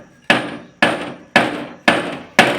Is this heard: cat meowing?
no